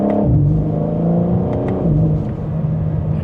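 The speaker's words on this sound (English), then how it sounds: "so we can hear that exhaust" A 2026 BMW M4 Competition xDrive engine and exhaust hold a loud, deep rumble that rises briefly, settles, then swells again in a steady rev, close and continuous with no talk.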